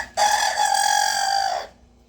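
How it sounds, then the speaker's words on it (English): A rooster gives one loud, sustained crow of about a second and a half, harmonically rich and fairly close, with no talk over it. "My rooster is going nuts over there."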